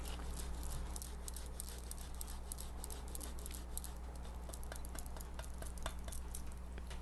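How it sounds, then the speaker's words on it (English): Ricotta salata cheese rasped over a kale salad on a microplane grater, a steady close scratchy rasping with quick repeated strokes against a constant low hum, no voices. "So I have a microplane grater, and I'm just gonna grate this on top."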